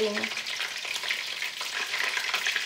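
Battered beer-marinated fish fillets spattering in hot oil, a steady close crackling sizzle with sharp pops throughout, no voices.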